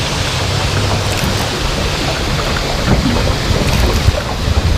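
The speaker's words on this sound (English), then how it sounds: "I'm slowing the boat down significantly here, out in the current" A fishing boat's motor throttles down while the boat sits out in a river current, its low steady hum buried under heavy wind buffeting and rushing water across the whole stretch.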